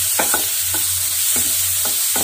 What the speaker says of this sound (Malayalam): ഒരു രണ്ട് ടീസ്പൂൺ സാമ്പാർ പൊടി ഞാൻ ഇതിലേക്ക് ഇട്ടു.